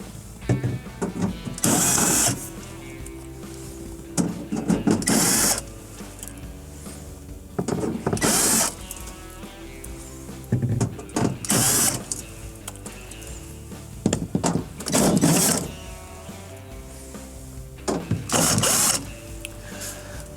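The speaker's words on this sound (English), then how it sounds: "So we're going to go ahead and remove the 6 screws." A driver takes out six screws from the evaporator cover of a Whirlpool refrigerator. Six short whirring bursts come at roughly even intervals, close by, over quiet background music.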